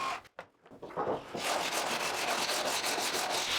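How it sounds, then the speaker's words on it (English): Sandpaper rubbing across a glued joint in construction lumber: a brief scrape and pause, then steady rapid back-and-forth strokes, close and fairly quiet. "after just a little bit of cosmetic sanding"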